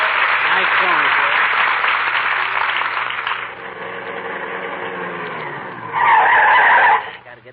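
A car's brakes screech to a stop as a radio show sound effect: a long, loud tire squeal that shifts in pitch, with a second shorter burst of skidding near the end.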